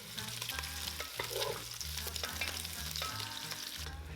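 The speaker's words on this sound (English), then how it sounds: "transfer in the pork belly and stir fry until lightly brown for about 5 minutes" Pork belly pieces stir-fry in a pot over high heat for Thai braised pork belly, giving a steady hiss of sizzling fat broken by repeated clanks and scrapes of a utensil against the pot.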